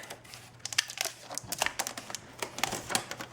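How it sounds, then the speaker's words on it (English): Protective tape peeled off a Samsung MU6290 4K TV, a run of close crackly rips and crinkles at a steady irregular pace with no talk over it. "let me remove this tape here, protective tape"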